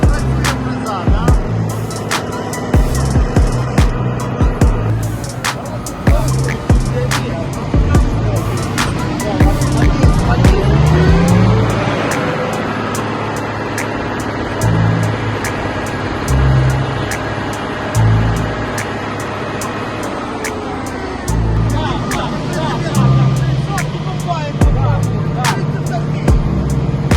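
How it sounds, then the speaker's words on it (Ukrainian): A road milling machine works on repairs of the N-23 highway near Apostolove, with a heavy engine rumble and grinding plus scattered clanks and knocks, fairly close, while people talk over it. "А, ось як працює фреза, так?"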